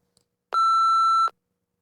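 A single loud electronic beep from a TOEFL speaking test prompt, a pure steady tone lasting under a second, alone against silence.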